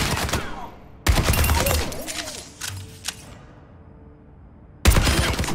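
Weapon fire on the training range of the shooter game Overwatch 2, loud bursts of rapid automatic gunfire separated by quieter pauses with faint mechanical tones, a sharp volley resuming at the end.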